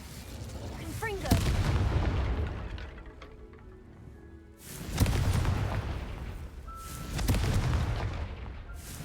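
Three blasting-spell impacts from Confringo in Hogwarts Legacy, each a sharp boom with a rumbling tail, spaced a few seconds apart amid quieter game ambience.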